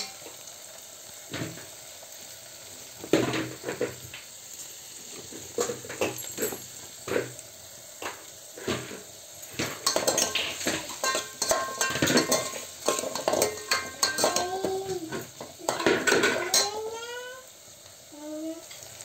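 An onion and tomato mixture is stirred in a pan, with a soft sizzle under repeated spoon scrapes and clinks. Faint animal-like squeaks and chirps come through in the later part.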